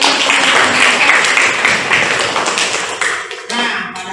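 Children in a classroom clap together for a short round, loud, close and dense, tapering off near the end with a voice briefly heard.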